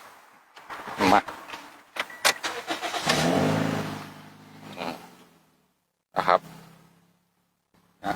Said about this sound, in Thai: เดี๋ยวเรามาลองสตาร์ทกันดูนะครับ